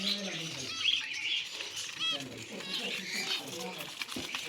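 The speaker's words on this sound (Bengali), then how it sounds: "এখানে কিছু জেব্রা ফিঞ্চ নিয়েছে, 3 পেয়ার জেব্রা ফিঞ্চ আছে" Three pairs of zebra finches in an aviary give faint, scattered high chirps and brief wing flutters under someone talking close by.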